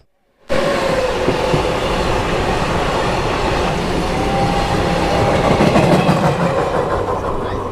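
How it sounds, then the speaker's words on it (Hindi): The 14123/24 Intercity Express from Kanpur to Lucknow pulls away from Jaitipur after a short stop. A loud, steady rumble of moving rail cars begins abruptly and continues with clattering wheels and a faint squeal, with no talk. "लगभग 5 से 6 मिनट के स्टॉप के बाद हमारी ट्रेन वापस से चल चुकी है जयतीपुर से"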